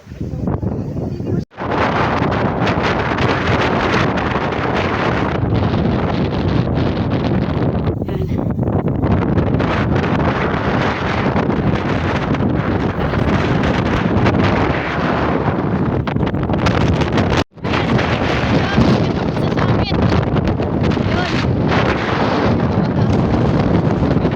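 Strong wind roars loudly and steadily across a microphone on Tarak Beach in Mariveles, Bataan, a constant heavy buffeting broken by two brief dropouts.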